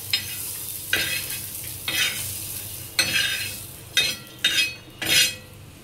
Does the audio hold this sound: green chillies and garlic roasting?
yes